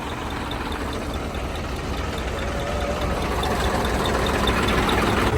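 Close and loud, a Massey Ferguson 2635 or 246 tractor idles with a continuous, slightly knocking diesel rumble that builds a little louder over time as it stands ready for langar sewa in fog.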